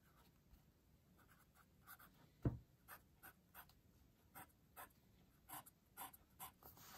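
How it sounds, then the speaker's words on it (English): A Parker 51 fountain pen scratching across paper in a writing sample, producing quiet, evenly spaced strokes with one sharper scrape early on, close and soft, alongside faint background panting. "let's do a writing sample"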